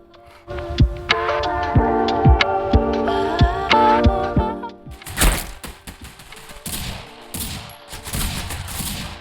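In the shooter game Critical Ops, a grenade is thrown amid rapid ticking and sharp gunfire bursts, followed by a loud booming blast and scattered noisy impacts in a busy, close-up game mix.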